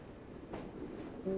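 A train in a video game rolls along steadily at a distance, a low continuous rumble with a brief swell midway and a faint tonal hum appearing at the end, with no voices.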